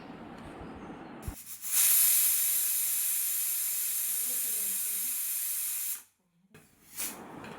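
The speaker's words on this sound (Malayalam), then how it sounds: "കുക്കർ അടച്ച് ഒരു 3 വിസിൽ വരുന്നത് വരെ" Pressure cooker on the stove releasing steam before its whistle, a loud close hiss that surges up and holds steady for several seconds, then cuts off abruptly.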